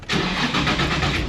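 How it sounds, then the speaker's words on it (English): Supercharged Nissan 350Z engine cold-starting, a brief crank catching into a loud, steady close-up roar that holds at high idle. "Cold start."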